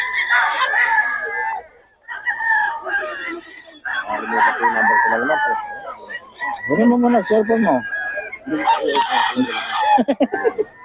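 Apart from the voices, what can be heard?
roosters crowing at a market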